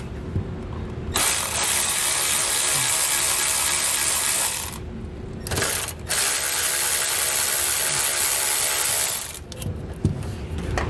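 A hand ratchet works loose two 10 mm bolts under the bed of a 2022 GMC pickup during an underbed gooseneck hitch install, with two long bursts of close, steady clicking separated by a brief pause and a short final burst.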